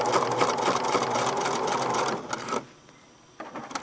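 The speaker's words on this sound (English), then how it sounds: "And now I'm going to sew down this length" A sewing machine runs steadily as it stitches down an elastic casing, a loud continuous whir for about two and a half seconds before stopping, then briefly restarting near the end.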